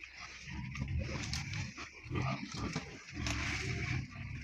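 Close, continuous crunching and chewing with snuffling grunts from a pig eating, fairly loud and steady throughout.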